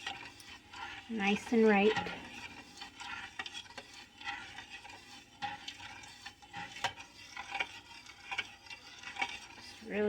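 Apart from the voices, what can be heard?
spoon stirring raw goat's milk in instant pot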